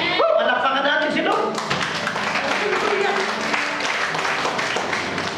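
A church congregation claps during a worship service. The applause builds into a dense, steady wash of hands, partly masked by loud speech and voices over it.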